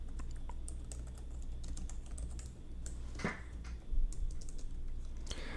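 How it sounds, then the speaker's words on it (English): Steady typing on a computer keyboard set off to one side, with continuous soft key clicks close to the listener and a low hum beneath, alone without speech. "Forgive my bad typing. My keyboard is like to my side."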